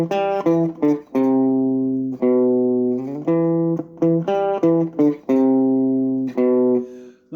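Guitar playing a riff, a clean single-note line of sustained and short plucked notes repeating the phrase twice, played alone.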